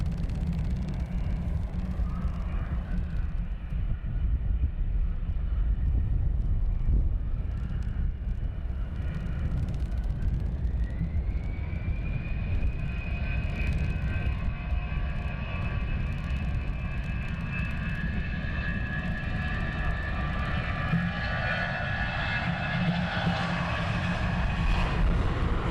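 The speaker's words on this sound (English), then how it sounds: "We have another BizJet taxiing down as well." At London Luton Airport a business jet taxis with a steady, moderately distant engine whine that rises in pitch partway through and sits over a constant low rumble of wind.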